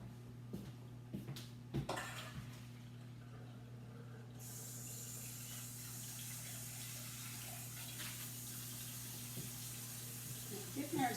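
A kitchen tap runs into a sink to rinse cooked ziti pasta, starting as a steady hiss partway through after a few clunks and knocks, with a constant low hum underneath.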